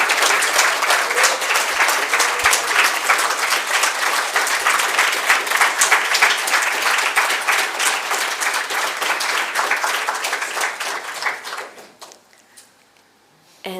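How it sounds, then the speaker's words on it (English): A huge round of applause fills a conference hall at an education wiki event, dense and steady for about eleven seconds before fading out and stopping. "I want a huge round of applause, and I want all the volunteers to stand up"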